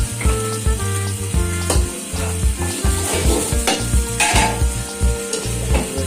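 Chowmein noodles for egg schezwan noodles are stir-fried in a hot pan, with steady sizzling under repeated scraping and tossing strokes of a spatula, close and busy throughout.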